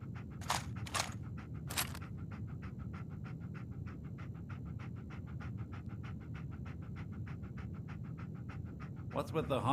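Dogmeat the dog from the Fallout 4 video game pants in a steady rhythmic stream of quick breaths, close and continuous, with a few brief scrapes near the start and a rustle at the end.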